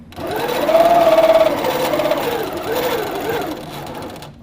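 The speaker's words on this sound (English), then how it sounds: "Because it is a piecing and quilting machine, it makes it so much easier." A Little Rebel piecing and quilting sewing machine stitches binding through layers of fabric in one loud, close, continuous whirring run that eases off near the end.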